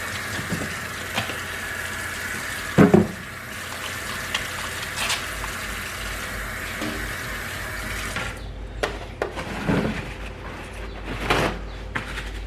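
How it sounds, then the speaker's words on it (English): Hands are washed under a running kitchen tap, giving a steady hiss of flowing water with brief splashes and a few knocks. The water stops near the end. "let me just wash my hands real quick"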